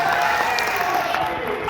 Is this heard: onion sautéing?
no